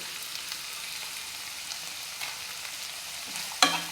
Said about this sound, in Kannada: ಟೊಮೆಟೊ ಮೆತ್ತಗಾಗುವವರೆಗೂ ಬೇಯಿಸಬೇಕು